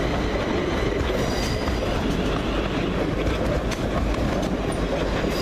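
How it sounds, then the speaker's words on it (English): A train rolls past close by at Cheddington station, a loud continuous rumble of wheels on rails with faint metallic squeals and clatter, no one speaking. "That's our train."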